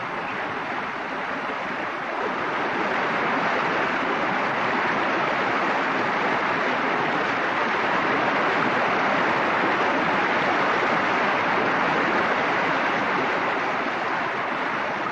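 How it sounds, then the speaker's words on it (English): A waterfall in the small rainforest on Lizard Island, heard as a loud, continuous broadband rush of falling water that stays steady throughout, with no voices. "Its waterfall is irresistible."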